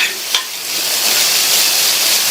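Onion and potato sautéing in a pan with salt, a brief utensil tap followed by a steady, loud sizzling hiss that swells and holds close up.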